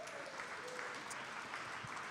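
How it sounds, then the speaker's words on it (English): Studio audience on a Packers-focused show giving a round of applause: continuous, dense clapping at moderate level, with a voice faintly present underneath. "Give him a round of applause"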